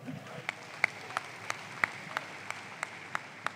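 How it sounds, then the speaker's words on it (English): An audience at a church service claps in a slow, steady rhythm, each clap sharp but faint, spaced about a third of a second apart over a quiet room. "Clap for him."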